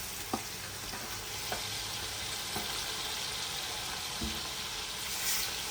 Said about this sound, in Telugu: అల్లం వెల్లుల్లి పేస్టు ఇలా తిప్పుకుంటూ ఉండాలి